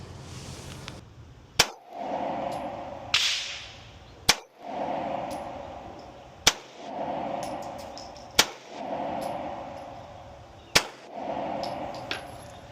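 Five sharp pistol shots fired at a target at an outdoor range, evenly spaced a couple of seconds apart, each a loud crack with a short ringing tail, with no voices.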